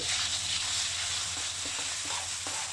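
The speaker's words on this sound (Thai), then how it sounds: "ช่วงของการทอดกระเทียมนะก็ใช้ควอ่อน" Garlic sizzles in hot oil over low heat while being cooked for fried pork with garlic. It makes a steady, close hiss with a few faint stirring clinks and no talk.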